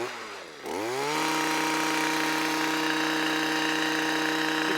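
A Stihl MM55 small tiller fitted with bolo tines revs up from a low start and then holds a loud, steady two-stroke whine close by while it digs into soil.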